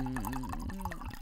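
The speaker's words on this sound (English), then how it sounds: "Oh, that kept pouring for a while." Red wine glugging out of a bottle into a glass, a close, steady pour with bubbling gurgles and a rising filling tone over about a second.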